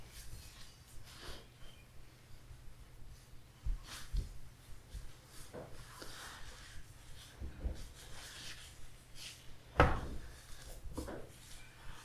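A kitchen drawer holding plastic containers slides open and shut, with soft wooden knocks and thuds spread across a quiet room and one sharper bang toward the end.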